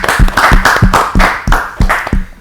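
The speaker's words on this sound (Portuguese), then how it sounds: "Uma salva de palmas" Applause from a studio audience during a Portuguese television debate, a burst of loud clapping pulsing in rhythmic waves for a couple of seconds.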